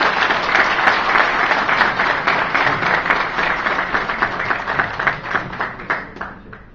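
Audience applause welcoming a motivational life coach onto the stage at a book launch event in Istanbul, dense steady clapping from a large crowd that continues for several seconds and gradually thins toward the end.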